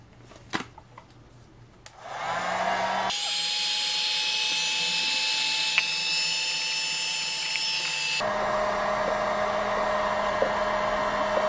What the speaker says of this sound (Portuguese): Então vamos ver se vai sair com o soprador térmico.